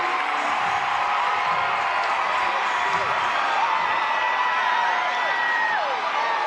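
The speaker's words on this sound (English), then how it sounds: "The crowd getting rowdy here in Savannah" Rowdy crowd at a Savannah Bananas baseball game in Savannah, Georgia, cheering and whooping loudly and continuously, a dense roar of many voices with scattered shouts.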